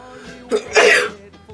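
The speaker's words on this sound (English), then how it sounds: "oh yeah, no COVID, just a sneeze" A single loud, close sneeze, with a short sharp intake of breath just before the burst, then quiet.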